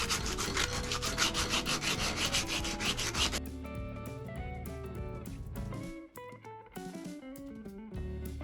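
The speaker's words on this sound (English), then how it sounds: "More hand sanding for a minute." Sandpaper rubbed by hand across a wooden surface, a steady close scratching that fills the opening seconds and then thins to a softer, intermittent rasp.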